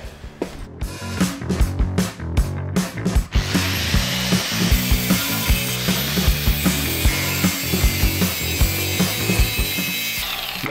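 Sheet metal being cut with a power tool in a winter garage where a drift car is being prepared: a few sharp scraping strokes, then a continuous loud, harsh, high-pitched cutting screech close by.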